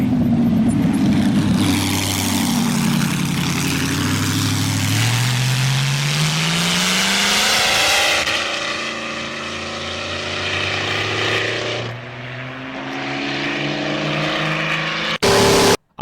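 A V16 Auto Union Type C race car roars past on a wet mountain road. The loud engine note climbs and falls through sweeping pitch changes, then cuts off sharply at the end.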